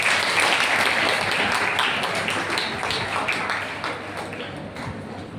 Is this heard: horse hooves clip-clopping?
no